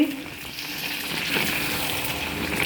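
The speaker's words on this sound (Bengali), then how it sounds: "এত সুন্দর পিঠা আমি ভাজতেছি" Pakan pitha, a Bengali sweet fried cake, frying in hot oil, giving a steady close bubbling sizzle with a watery hiss that holds at an even level throughout, with no talking.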